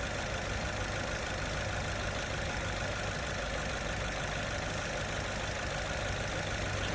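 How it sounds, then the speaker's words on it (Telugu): A new Suzuki SX6 car engine with about 15,000 km on it idles in a steady, unbroken drone, close and even throughout with no other sounds. "ఇంజన్ నాయిస్ని మీరు అబ్జర్వ్ చేయొచ్చు."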